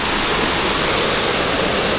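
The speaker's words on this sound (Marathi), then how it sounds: "आपल्या समोर आहे ओझरखोलचा प्रसिद्ध धबधबा" The famous Ozarkhol waterfall in Konkan, dropping from high forested hills, roars as a loud, unbroken wash of falling water with no other sounds.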